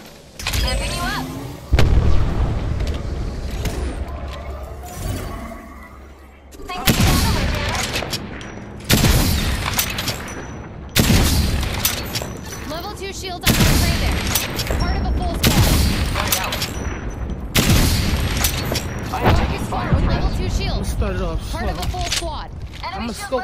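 Apex Legends gunfire and arc star grenade explosions come in loud bursts of rapid shots and heavy booms, separated by short gaps, with a player's voice callouts mixed over the action.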